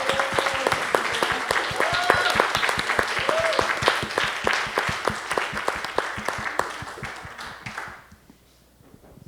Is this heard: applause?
yes